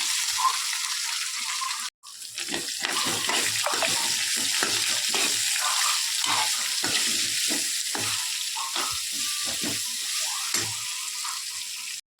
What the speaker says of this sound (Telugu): ఎండిమిరపకాయ వేస్తున్నాము కరివేపాకు వేస్తున్నాము ముందుగానే కాకరకాయలు ఫ్రై చేసుకుని పెట్టుకున్నా వేస్తున్నాము